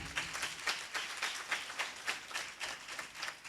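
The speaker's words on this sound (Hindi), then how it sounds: "ताली बजाएं।" A church congregation claps in applause at a Friday prayer meeting, a dense, steady patter of many hands with regular swells, moderately loud and without talk.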